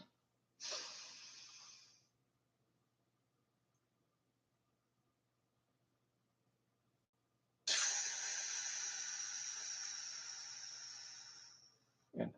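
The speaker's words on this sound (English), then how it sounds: "Take a breath." Two slow, deep breaths in a 4-7-8 breathing exercise: a soft breathy inhale, a long silent hold, then an extended airy exhale, close to the microphone and with no talking.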